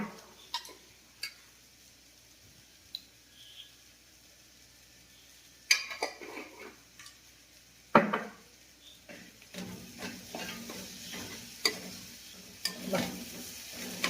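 Onions sautéing in a pan with turmeric powder and salt added, a soft low sizzle with scattered sharp clinks and scraping stirs of a spoon against the pan, mostly quiet between louder stirring knocks.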